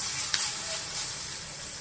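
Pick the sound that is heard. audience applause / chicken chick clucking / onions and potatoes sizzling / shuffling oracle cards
onions and potatoes sizzling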